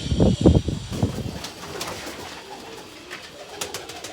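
A Shah pigeon gives a few loud, close coos in quick succession, then fades into quiet room noise with faint scattered sounds.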